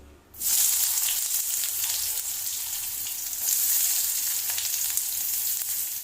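After a brief quiet moment, a loud burst of sizzling erupts as chopped onions hit hot mustard oil, then a steady, intense crackling hiss continues.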